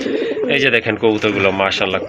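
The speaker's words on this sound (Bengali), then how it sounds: "নট তো পুরাই পাগলা দেখেন ছাদার সাথে সাথে কিন্তু ডাকাডাকি শুরু করছে" A male pigeon coos in throaty, repeated pulses close by, with a person talking over the calls.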